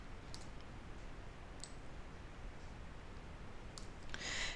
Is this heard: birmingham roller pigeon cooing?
no